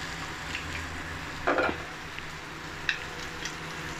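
Masala roasting in a kadhai while making aloo gobhi tahari, with a soft steady sizzle and a few brief stirring scrapes against the pan, heard close and without talk.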